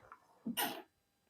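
A single quick sneeze, a short intake then a sharp burst, sounds close and isolated against quiet, with no speech during it.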